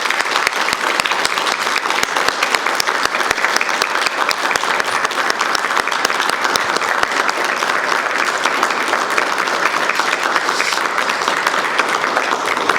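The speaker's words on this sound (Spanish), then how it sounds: "si podemos darle un aplauso a mi madre Clorinda Guzmán" An audience at a forum marking 34 years since a forced disappearance applauds, a loud, sustained burst of dense clapping that continues evenly throughout, close and without talk over it.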